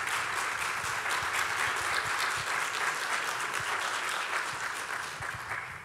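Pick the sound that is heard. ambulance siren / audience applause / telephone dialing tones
audience applause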